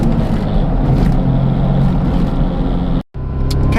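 A Suzuki Cappuccino's small engine drones loudly and steadily from the car, dropping out abruptly for a moment near the end before resuming.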